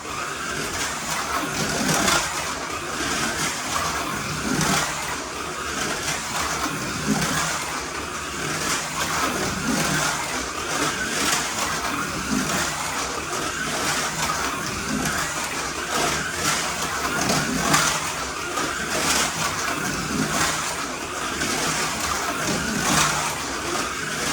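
A yellow Corvette slot car with a Slotting Plus universal deep wood guide runs continuously around the track, giving a steady buzzing electric motor whine with a light pulsing rhythm, fairly loud and with no talking.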